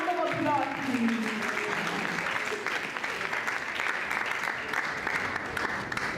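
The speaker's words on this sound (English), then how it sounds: "as he comes for a round of applause" Applause from a seated audience at a career acceleration masterclass, a steady wash of many hands clapping as a manager comes up to speak, with a few voices and tonal sounds over it early on, holding fairly even throughout.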